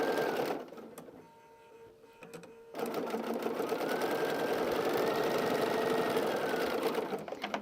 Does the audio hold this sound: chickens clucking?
no